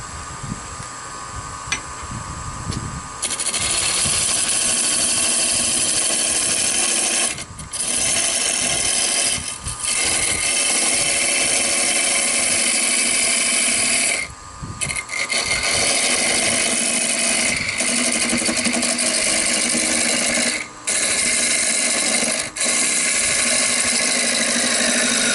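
A wood lathe spins at about 750 rpm while a 1/8 parting tool parts off a hollowed inside-out vase, giving a loud, steady scraping and whirring roar with a few brief dips.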